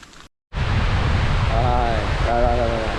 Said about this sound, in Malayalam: ഈ കാണാനുണ്ട് വെള്ളച്ചാട്ടം. അത്ര വലിയ സംഭവമായിട്ടുള്ള വെള്ളച്ചാട്ടമല്ല